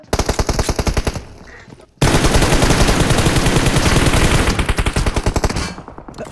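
Automatic gunfire in the mobile battle royale PUBG Mobile: a rapid burst of shots, a brief gap, then a longer, louder sustained stream of rapid fire that tapers off at the end.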